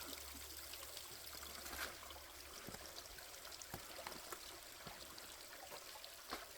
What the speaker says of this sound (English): The creek is very, very low. The water's barely even flowing through it.